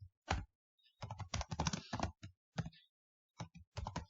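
Computer keyboard typing while Java code is written, in short irregular bursts of quick key clicks separated by brief pauses, close and fairly quiet, with no talking.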